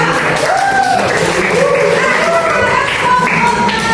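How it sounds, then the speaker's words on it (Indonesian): A classroom group claps for group 2, a dense patter of many hands mixed with rising and falling voices calling out over it. "Berikan aplaus untuk kelompok 2."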